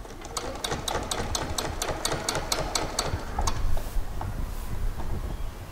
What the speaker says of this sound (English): ensure that your stitching line goes right inside or between your seam at the waistband